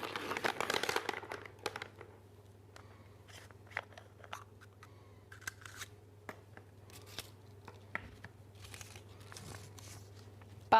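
A team slip is drawn from the draw pot at the OFC Women's Champions League 2025 draw, with a burst of close paper crinkling and rustling followed by scattered small crinkles, taps and clicks over a low steady hum.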